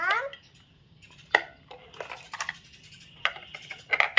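AA batteries pushed into the plastic remote of a WLK989 toy RC car, a few sharp clicks and small plastic knocks scattered unevenly across a quiet room, with faint background noise.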